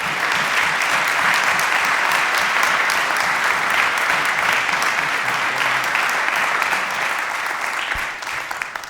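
A chapel audience applauds to welcome Dr. Paul Cannings, steady, dense clapping from many hands that holds loud for several seconds before thinning out at the end.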